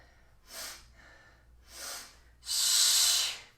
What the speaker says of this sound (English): Let's inhale, sniff.